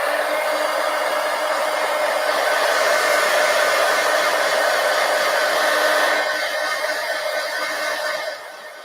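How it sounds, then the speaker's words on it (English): A hair dryer blows steadily on a 24x36 collage poster, a loud, continuous broadband whoosh lasting about eight seconds before tapering slightly as it ends, with no talking over it. "Now I'm going to dry this."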